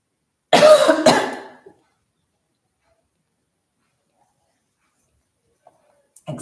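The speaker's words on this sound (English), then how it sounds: "Excuse me, coughing." A person coughs twice in quick succession at close range during a home yoga session, the harsh bursts fading into near silence afterward.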